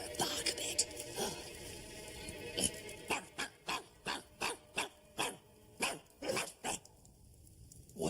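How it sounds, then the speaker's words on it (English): A dog gives a run of about ten short, evenly spaced barks, close and fairly loud, following some rustling and scattered noises, with no talk over them. "Come here and bark a bit."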